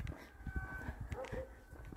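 A dog whines softly in the countryside around Borgo San Lorenzo, with a short rising and falling whimper set against outdoor ambience and low thumping footsteps.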